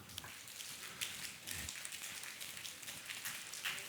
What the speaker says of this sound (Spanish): Aplauda con 2 dedos.